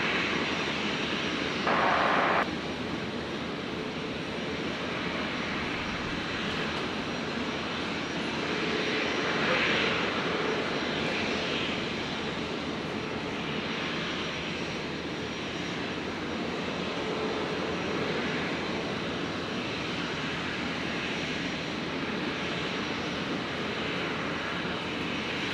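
A jet airliner roars steadily as it lands on runway 01 left at Brisbane International Airport at sunset, a broad continuous engine rumble that stays loud and even throughout, with no voices.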